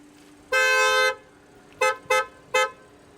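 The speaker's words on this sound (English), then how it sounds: "So that was the horn" An Audi car horn honks once in a long blast, then three short toots in quick succession, close and loud.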